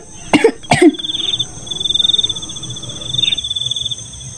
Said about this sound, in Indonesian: Tapi gue perhatiin kakak batuknya makin parah.